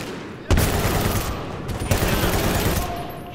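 Shotgun blasts in Medal of Honor: Warfighter, two loud close booms with long rolling tails over continuous battle noise, no talking.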